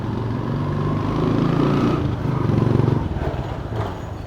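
Heavy equipment hauling garbage off a street in Divisoria, Manila: a rumbling engine with clattering and scraping, fairly near and continuous, swelling slightly in the middle.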